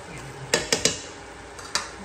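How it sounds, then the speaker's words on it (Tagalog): A spoon stirs lightly salted food in a cooking pan, making a quick run of three close metallic clacks, then a lone clink over a low sizzle, loud and near. "Haluin natin ng konti."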